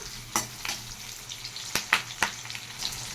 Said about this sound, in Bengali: এই তেলের মধ্যেই দিয়ে দিলাম কিছুটা পেঁয়াজ কুচি।